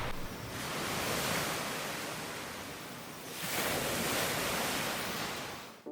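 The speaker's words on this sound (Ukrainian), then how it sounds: "Давайте трішки послухаємо море." Black Sea waves at Batumi wash onto a beach in two broad, rushing surges, loud and close, with no voices.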